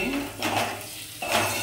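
Metal spoon scraping and clinking against a pan while stirring fish curry masala with turmeric, several close strokes with brief clinks, faint kitchen background.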